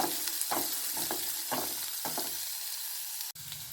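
Shallots sautéing in a pan, with a continuous hiss of frying and several soft stirring scrapes in the first half, then a single sharp knock near the end.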